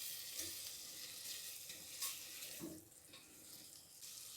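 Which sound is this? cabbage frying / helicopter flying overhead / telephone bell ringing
cabbage frying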